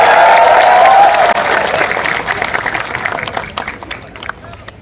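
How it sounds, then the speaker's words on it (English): Applause and cheering from a crowd at a Kuki community political rally in Delhi, a dense loud roar that fades over a few seconds as the clapping thins out. "a round of applause"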